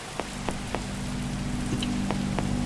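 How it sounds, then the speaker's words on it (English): Steady rain falls in the video game Lost In The Woods, a dense continuous patter with a few sharper drips and a low droning hum underneath, with no talking. "Oh my god, it's raining blood,"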